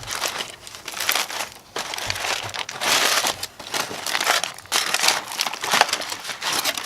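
Loud, steady crinkling and crumpling of foil and paper as rested smoked pork butts are unwrapped, continuous rustling bursts close up with no speech.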